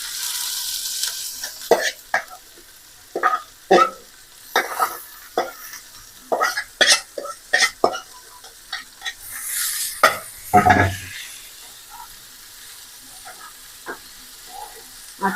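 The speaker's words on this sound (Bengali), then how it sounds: "আর একটু ভাজা ভাজা করে নেব শাকটা।" Radish greens frying with browned onion and garlic, stirred in a pan: close, sharp scraping and clattering strokes in an uneven rhythm over a low sizzle, with a brief louder crackle near the end.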